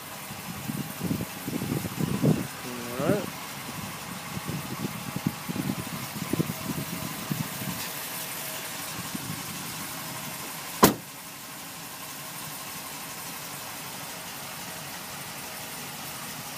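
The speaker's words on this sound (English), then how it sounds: "Just starting the vehicle up and everything." A 2015 Dodge Ram pickup idles outdoors on a cold morning with a low, steady engine rumble. A burst of rougher revving comes early, a single sharp thump lands near the end, and the idle carries on quietly.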